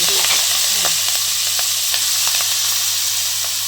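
Chigal greens drop into a pan of roasted garlic and sizzle loudly and steadily, with faint crackles throughout and no voices.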